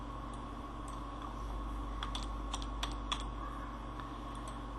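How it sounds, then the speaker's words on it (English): Computer keyboard typing while an invoice query is re-entered into a spreadsheet: scattered light key clicks in small bursts, fairly faint above a steady background hum, with no voices. "Let's delete this and type again."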